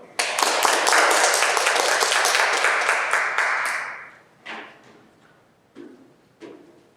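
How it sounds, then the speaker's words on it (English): Attendees at a Toastmasters club meeting give a burst of applause lasting about four seconds, which then tapers into a few scattered late claps or knocks, close and fairly loud. "A round of applause, everyone."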